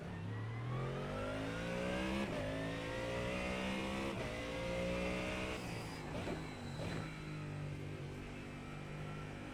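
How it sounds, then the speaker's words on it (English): A Ford Mustang GT3 racing on track in the iRacing sim, its engine rising through the revs in repeated climbs and dropping on each gear change, with a loud, steady in-car drone and no talking. "we'll jump into the all-new Ford Mustang GT3 and get ourselves out there on the track"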